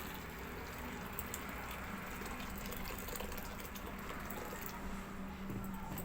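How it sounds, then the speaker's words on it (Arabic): Boiling water is poured from a kettle over bulgur in a bowl, a steady continuous gushing stream that stays even throughout, fairly quiet and without talk. "نحط عليها ميه مغليه"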